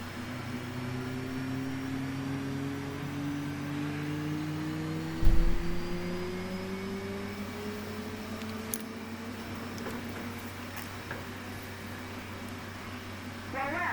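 The right engine of an F/A-18 starting up in the DCS flight simulator: a steady mechanical whine with tones that rise slowly over a low hum, plus a brief thump partway through.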